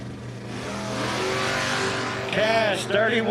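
A loud drag racing car, a wheel-standing Ford Maverick, roars hard off the line with rising revs and a sharp surge near the end, while an announcer talks over the engine.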